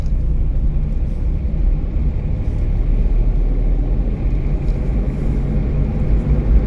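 A driving-school car's engine drones loudly from inside the cabin as a learner driver accelerates on a first lesson, a dense, steady low rumble without a clear rise in pitch.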